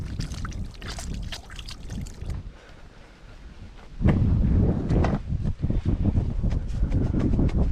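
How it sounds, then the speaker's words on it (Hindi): Hands washed under running water from a tap at home, splashing and gushing noisily and close, with a quieter stretch in the middle before the flow picks up strongly again. "मैं हाथ धो कर हूँ।"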